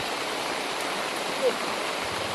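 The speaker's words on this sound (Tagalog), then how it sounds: "sobrang lakas talaga yung ulan" Heavy rain pours down steadily as a dense, even hiss with no pauses, filling the space at constant loudness.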